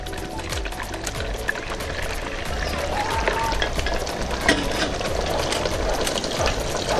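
A wooden spoon stirs a thick Ugandan chicken stew in a pot, with a steady bubbling, sizzling simmer and soft scraping running continuously at moderate, close level.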